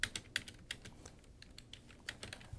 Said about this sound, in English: I can begin typing in whatever I want